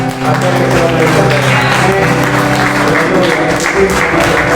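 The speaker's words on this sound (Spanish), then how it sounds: "un aplauso fuerte, fuerte" A church congregation claps loudly at a Sunday service, dense applause mixed with sustained musical tones and voices underneath, continuous and close.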